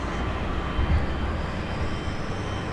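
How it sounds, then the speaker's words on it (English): A 13-year-old British Airways Boeing 777-300ER jet at LAX, bound for London Heathrow, gives off a steady, broad engine roar that holds at moderate loudness for under three seconds, with no voices. "It's like 282 heading back to London Heathrow. This 13-year-old 777-300ER."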